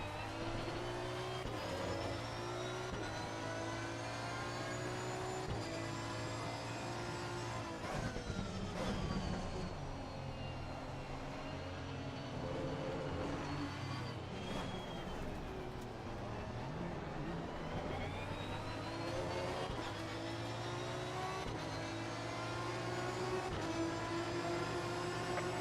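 Racing cars lap Paul Ricard in a racing video game, with Porsche Cup and GT3 machines sustaining a continuous engine drone that shifts with gear changes and revs, steady and loud for the whole stretch.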